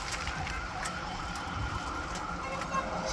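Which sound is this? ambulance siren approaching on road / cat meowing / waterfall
ambulance siren approaching on road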